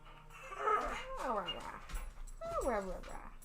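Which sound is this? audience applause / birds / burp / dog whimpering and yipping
dog whimpering and yipping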